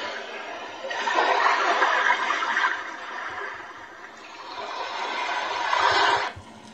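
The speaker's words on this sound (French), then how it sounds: "On a la pluie." A recording of rain plays from a small Xiaomi Qualitell sleep-aid speaker: a bright, steady hiss that swells, eases off, swells again, then cuts out abruptly.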